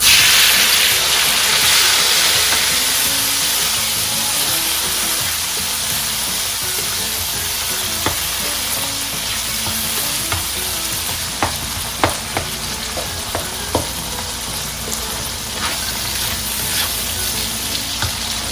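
Chopped tomatoes sauté in a hot pan with cumin seeds for a radish paratha masala, giving a steady, close sizzle with scattered spatula scrapes and taps, more frequent toward the end.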